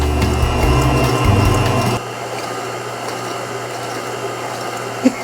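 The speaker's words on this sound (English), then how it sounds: "Now we have our sugars and our egg in the stand mixer. I'm just gonna go ahead and whisk this for 2 minutes." A stand mixer whisks sugar and egg, whirring loudly and steadily with a rattling beat for about two seconds before it stops, leaving quiet room noise and one small knock.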